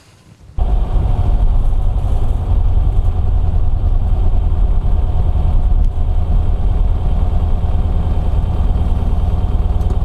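A 1964 VW Beetle engine fitted with Empi dual carburettors runs steadily at raised RPM, a loud, close, even air-cooled clatter that starts abruptly and holds without pops.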